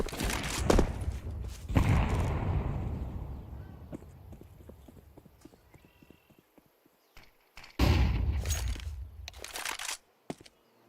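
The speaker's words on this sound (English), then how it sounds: "Deploying flashbang." A flashbang grenade goes off in Counter-Strike 2, with loud bursts at the start, a decaying wash of noise, a run of faint rapid ticks, and another loud burst near the end; a brief voice is also present.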